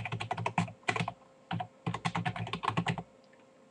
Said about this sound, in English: you would type your website address